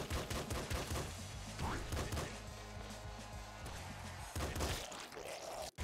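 Dense, chaotic gunfire and crunchy impact bursts from bandits shooting in the top-down shooter Nuclear Throne, loud and continuous with layered game music and effects throughout.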